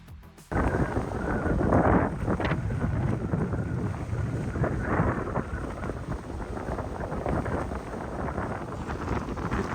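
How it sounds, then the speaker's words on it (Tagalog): Strong wind gusting and flood water crashing against the shore in Bulakan, Bulacan, a loud, continuous, rough roar with blustery microphone buffeting throughout. "Ganito kalakas yung hampas ng tubig."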